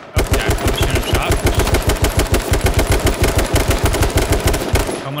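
Sustained automatic gunfire from a competitive team shooter video game, a rapid, loud, evenly spaced burst of shots running steadily for about five seconds with no talk over it.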